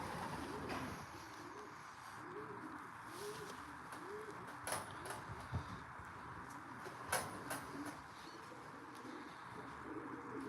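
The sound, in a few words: racing pigeons arriving and cooing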